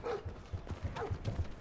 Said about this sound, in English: Whose dog? Is that our dog?